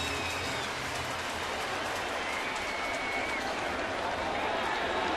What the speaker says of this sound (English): The crowd trying to make some noise and spur on the Yankees